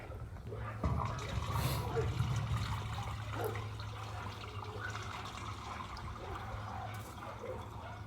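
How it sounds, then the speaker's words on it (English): A household toilet with good water pressure flushes, a strong rushing surge followed by steady refilling trickle and gurgle, fairly quiet and close, with a voice briefly present. "Toilet is flushing with very good pressure."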